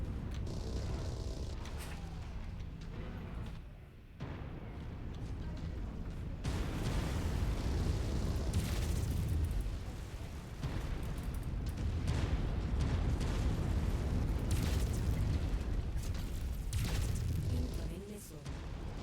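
Artillery explosions rumble in a Leopard tank combat video game, a dense, loud, continuous roar of blasts with radio voice lines spoken over it.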